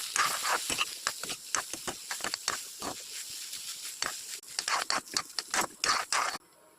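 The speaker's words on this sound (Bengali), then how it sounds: "সোয়াবিন ভাজা হয়ে গেছে" Boiled soybean chunks fry in hot oil with turmeric, salt and chili, making bursts of hissing, spitting sizzle in uneven pulses that stop abruptly near the end.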